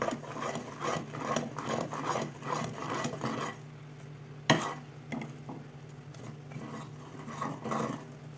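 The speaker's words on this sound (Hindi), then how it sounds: "ये सारे मसाले हम इसमें डाल देंगे, मिलाएंगे" Spices being stirred into bubbling sugar syrup for a sweet-sour lemon pickle, a steady rhythmic scraping and rubbing of the spoon in the pot, fairly close, with a sharp knock midway and a brief pause before stirring resumes.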